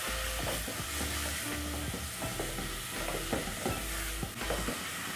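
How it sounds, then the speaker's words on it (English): Tomatoes, spices and a beef stock seasoning cube are stirred in a pot for matoke with beef stew, giving a soft steady sizzle with faint scraping under low background noise. "Then I'll stir."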